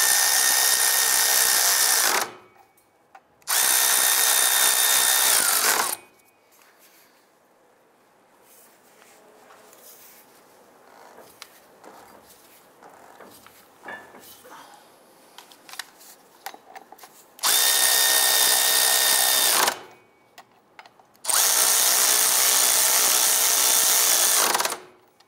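A power tool, likely an impact driver or drill, snugs down the bolts of a driver-side catalytic converter on a 2002–2008 Dodge Ram 1500. It gives two pairs of loud, close whirring bursts, each a few seconds long, with quieter clinks and shuffling between them.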